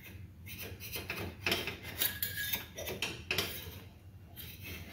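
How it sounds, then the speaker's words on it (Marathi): A metal spatula scraping a stuck wheat-flour tandoori roti off a hot pan, giving repeated close rasping scrapes with a rubbing, gritty texture. "आपण हे चिटकवलेलं जे होतं आपण हे उलथण्याने काढून घ्यायचं आहे"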